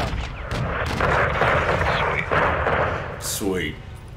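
Airstrike explosions level a greenhouse in Call of Duty MW2 on Hardened difficulty. Heavy, continuous rumbling booms and blasts roll on for seconds alongside gunfire, with voices talking over the din.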